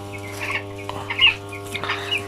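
Broiler chicks in a poultry house cluck and peep in scattered short calls over a constant low mechanical hum, fairly close, with no talk.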